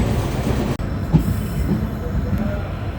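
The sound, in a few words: passenger train running on rails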